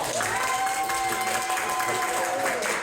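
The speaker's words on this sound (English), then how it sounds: "Applause for Cal." Audience at a live theatre show claps for a performer, a continuous wash of clapping with a voice speaking over it and a few whoops, steady and moderately loud.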